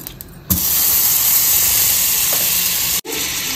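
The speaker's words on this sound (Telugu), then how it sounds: "ఇది కొద్దిగా బటర్ అయితే వేస్తున్నాను" Butter hits a hot pan for chicken tawa fry and bursts into a loud, dense hiss that holds steady for a few seconds, breaks off briefly, then resumes, with no speech.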